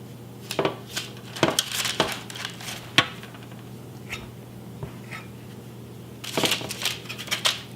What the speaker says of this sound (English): now we'll drop the cookies on a parchment-lined baking sheet